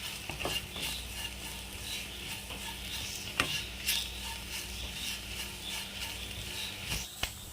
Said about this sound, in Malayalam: നന്നായിട്ടൊന്ന് പൊടികളുടെ പച്ചമണം ഒന്ന് മാറുന്നത് വരെ ഒന്ന് ഇളക്കി കൊടുക്കാം